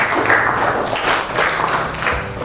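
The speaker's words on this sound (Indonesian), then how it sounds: "beri tepuk tangan dulu buat teman-teman semua" A class applauding classmates during a discussion lesson, a short burst of steady, fairly loud clapping from a room of students.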